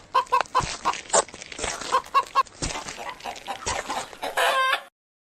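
A hen clucks in a rapid run of sharp calls, pauses, clucks again, and ends in a louder drawn-out squawk, close and clear with no voices.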